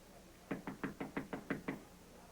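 Seven evenly spaced knocks rap on a door in a quick steady series, close and distinct against a quiet room.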